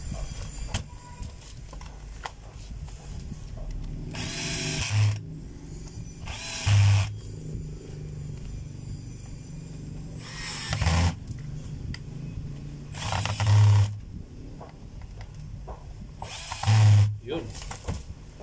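A DeWalt D25133 rotary hammer is switched on in short test bursts, about five loud, harsh whirring runs of one to two seconds each, spaced by quieter gaps with a low background hum and some talk.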